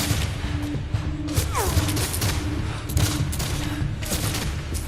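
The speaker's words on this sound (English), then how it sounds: "One fence they're using for cover takes 836 rifle shots." Rifle fire from a Civil War battle at Gettysburg, with soldiers firing from behind a fence: a dense, continuous fusillade of overlapping gunshots and sharp cracks, loud and sustained throughout with scattered heavier booms.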